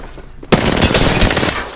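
Rapid automatic gunfire in a battle royale video game, a sustained burst of loud, dense shots bursting in after a brief quiet moment and continuing to the end.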